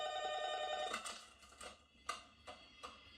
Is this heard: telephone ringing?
yes